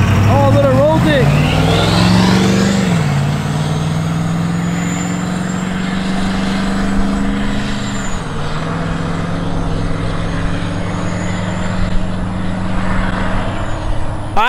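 A six-door truck with a compound-turbo 6.7L diesel engine makes a sustained pulling run, a loud, deep engine drone with a rising whine and turbo hiss that hold steady at close range, with a voice briefly audible over it.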